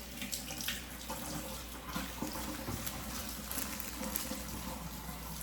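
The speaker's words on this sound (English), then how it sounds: "I'm going to take my potatoes and rinse them first." Golden potatoes are rinsed under a running kitchen tap, with a steady, faint hiss of water splashing into the sink throughout and no voices.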